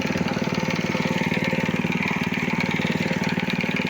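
A homemade self-propelled cart hauls about 210 kg of bricks uphill, its small engine chugging in a steady, fast, rough putter at low revs, loud and close with no talk.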